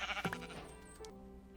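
A sheep in the video game Minecraft gives a short, quiet bleat, followed by softer in-game sounds, with no talking.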